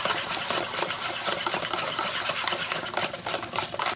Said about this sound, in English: just going to combine with the butter with the cocoa, using with a whisk